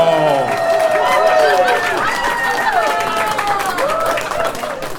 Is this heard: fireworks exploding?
no